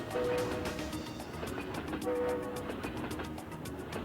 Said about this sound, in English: Gotta honk the horn for the crossing.